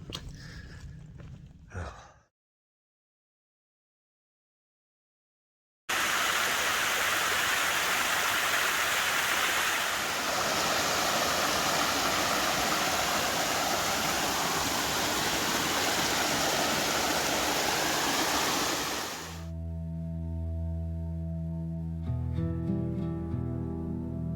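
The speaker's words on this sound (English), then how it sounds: "that's probably a 60-foot high waterfall. I believe it's called Laurel Falls." Laurel Falls, a waterfall about 60 feet high on the Appalachian Trail, roars as a loud, steady broadband rush that runs for about 13 seconds after a short silence, then drops into a lower wash with some rumble.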